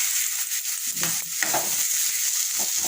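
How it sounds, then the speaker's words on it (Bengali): Sliced potatoes and fried onions sizzling in a pan with salt, a steady hiss with a few soft stirring clatters close by. "এই যে পেঁয়াজটা ভাজা ভাজা হয়েছে, তারপরে আমি আলু দিয়ে দিলাম"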